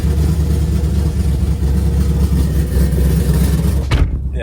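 A cammed Chevrolet Camaro ZL1 V8 idling loudly with a lumpy, choppy rumble, close and steady, cutting off abruptly near the end.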